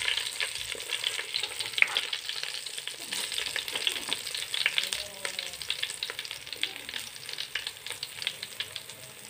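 Fish frying in hot oil on a banana leaf, a steady crackling sizzle with fine popping spatters, close and continuous without talk.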